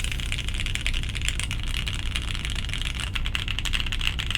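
Rapid, even typing on a Jane V2 CE mechanical keyboard fitted with GMK Vaporwave keycaps, a close, continuous stream of crisp clacks with no talk.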